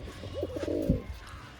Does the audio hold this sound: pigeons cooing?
yes